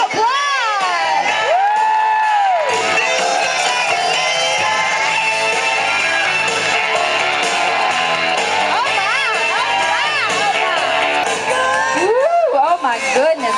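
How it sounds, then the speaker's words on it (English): A loud, packed crowd at a Relay For Life charity event cheers for a contestant, with high-pitched whoops and shouts rising over continuous clapping and crowd noise throughout. "Please give Jiggling Jasmine another round of applause."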